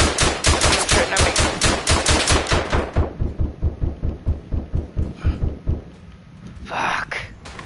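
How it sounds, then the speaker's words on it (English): Rapid bursts of automatic gunfire from the WWI shooter Verdun, loud and close for about three seconds, then sparser rattling shots and a distant rumble, with a voice reacting over it. "Someone's shooting at me."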